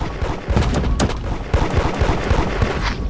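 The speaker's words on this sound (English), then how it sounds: "Bro, who is shooting me?" Gunfire in the video game Da Hood crackles in rapid, repeated shots and thuds that pile up continuously, loud and close, with no talking over it.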